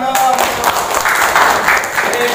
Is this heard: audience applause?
yes